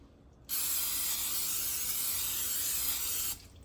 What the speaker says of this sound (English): we're going to spray our pan with some of the olive oil here